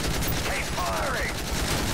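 Automatic gunfire from SMGs and assault rifles in a Call of Duty Modern Warfare 3 firefight, rapid repeated bursts with a rising whine of aircraft overhead, loud and dense with no pause.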